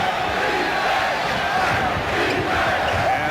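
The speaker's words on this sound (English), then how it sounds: "The first chant of defense from the crowd" A packed basketball arena crowd at a 1993 NBA playoff game between the Bulls and Knicks roars and chants defense, a loud, dense, continuous wall of voices.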